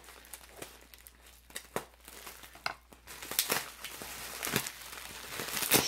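Packing tape rips and crinkles off a cardboard mail package, with crackly tearing and rustling that builds in loudness toward the end, close by and without talk.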